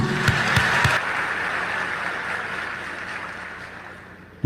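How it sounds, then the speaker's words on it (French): A crowd at a graduation ceremony gives a thunderous round of applause, dense clapping that starts loud and slowly fades away, with a few sharp knocks near the start and an abrupt sound at the very end. "qu'il est juste et beau de vous exprimer notre gratitude par ce tonnerre d'applaudissements"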